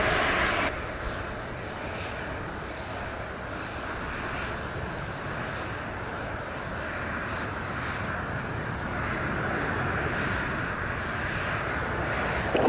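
An airliner landing at Montego Bay airport in Jamaica, heard as a steady, fairly distant engine rumble and rush mixed with wind, slowly growing a little louder, with no voices.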